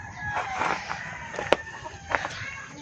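Backyard coop of chickens, including black Australorp, Rhode Island Red and Dekalb Brown hens kept alongside ducks, giving a run of close clucks and squawks in short uneven bursts, with one sharp louder call midway.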